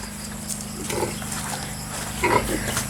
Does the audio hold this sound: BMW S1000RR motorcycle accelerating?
no